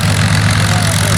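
A vintage tail-wheel training aircraft, an Avro Anson, drones with a steady, loud, low engine roar during a Battle of Britain scenario at RAF Cosford, heard briefly and continuously without pause.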